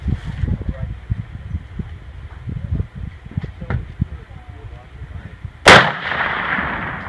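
A single sharp bolt-action rifle shot cracks out on an outdoor shooting range near the end, loud and close, after seconds of low rumbling wind and handling noise.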